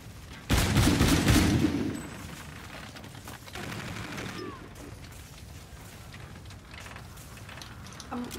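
A loud burst of scoped M1 rifle fire in Call of Duty: Infinite Warfare cracks out and then fades into a scattered background of quieter shots and game noise.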